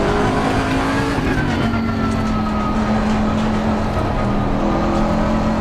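A Bentley race car in Assetto Corsa Competizione roars at high revs, its loud, sustained engine note steady and close throughout with a faint tonal whine riding on top.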